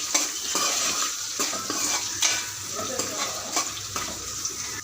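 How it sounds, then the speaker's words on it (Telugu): Sliced onions frying in a pan, a bright continuous sizzle with rhythmic scraping stirs about every second, close up and fairly loud, with no voices. "ఉల్లిపాయలు లైట్ ఏరిపడుతున్న వరకు వేసుకోవాలి"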